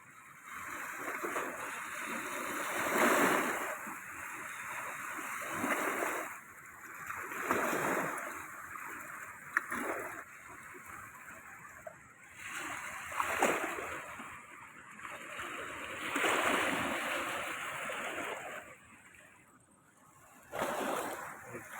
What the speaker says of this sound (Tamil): தண்ணி அலம்புது கரையில் வந்து அடிக்குது